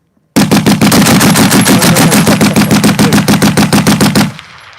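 A Vickers machine gun fires one long, loud burst of rapid, evenly spaced shots lasting about four seconds at close range. A short ringing tail follows as the firing stops.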